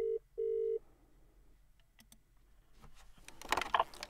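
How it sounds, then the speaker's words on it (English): A VoIP phone rings during a call test, giving two short electronic ring bursts close by, followed by faint clicks and handling noise. "notice over there you can see the phone is ringing"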